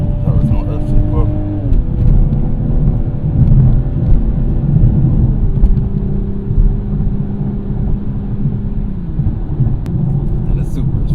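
A Toyota GR Supra on the road revs hard toward redline, a loud sustained engine drone whose pitch steps down in stages as it slows, with someone talking over it.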